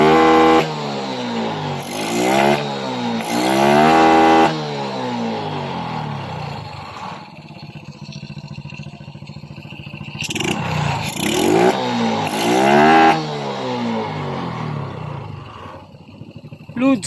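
Suzuki Smash 115 motorcycle engine struggling to accelerate, revving up and down in repeated rising surges with sputtering, uneven pulls, close and loud, with a quieter idling stretch between bursts.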